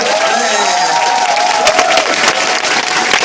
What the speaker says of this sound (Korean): 이 정도 되면 박수 한번 해야 되는 거 아니에요?